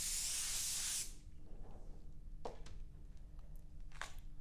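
An airbrush sprays a third coat of Auto Air Colors 4300 Series metallic blue paint, a loud close hiss for about a second, then stops, leaving faint handling clicks and low room hum.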